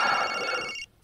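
A mobile phone rings loudly and close, an electronic ringtone with bright sustained tones that cuts off after about a second, then resumes briefly.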